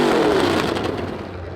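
A 550 hp carbureted car engine is revved and then falls back, a single loud, close burst of engine roar that fades within a second and a half.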